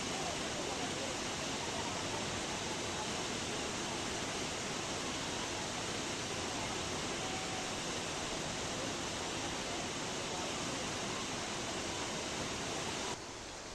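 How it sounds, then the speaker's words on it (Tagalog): Bongolanon Falls at Tausovan Eco Park pours over rocks in a steady, dense rush of falling water that fills the whole scene evenly from start to finish, with no voices. "So paminawan ninyo ang tingog sa falls ha."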